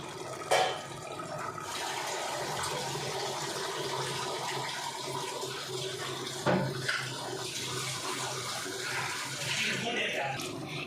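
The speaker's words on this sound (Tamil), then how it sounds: "இப்போ நம்ம வந்து வாட்டர் ஆட் பண்ணிக்கலாம்" Steady rush of running water pouring into a pot of rice, continuous and fairly loud for the whole stretch, with a couple of brief clunks.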